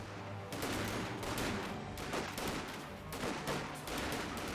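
Sustained small-arms fire crackles across a Company of Heroes 2 battlefield, with bursts of shots blending into a dense, continuous fusillade at moderate distance.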